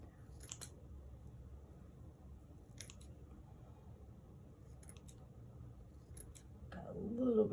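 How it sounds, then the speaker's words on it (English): Scissors snipping the ends of a wired trim, with four faint, brief crisp cuts spaced a couple of seconds apart over quiet room hiss, and a soft rustle at the end. "Go ahead and cut the ends here."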